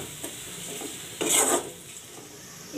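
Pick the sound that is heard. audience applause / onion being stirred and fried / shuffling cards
onion being stirred and fried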